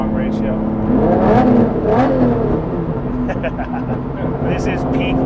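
Late-1990s Lamborghini Diablo SV with long-ratio gearbox, heard from inside as the engine revs up and then comes off throttle, a loud rising and falling mechanical roar under someone talking.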